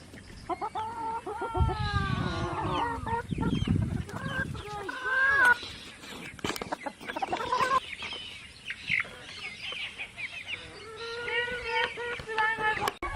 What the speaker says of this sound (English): A lot of chickens here.